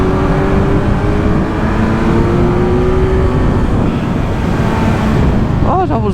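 Motorcycle engine running in third gear on twisty roads, a loud continuous close drone with wind rush, the pitch shifting slightly as the bike rides along, with a brief change in engine note near the end.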